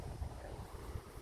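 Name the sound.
wind blowing across an allotment plot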